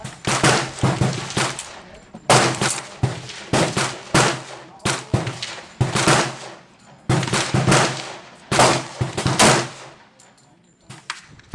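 Rapid strings of loud pistol shots from a Colt 1911 or Glock 30SF firing Federal rounds, close and sharp, in several bursts of quick successive reports separated by short pauses.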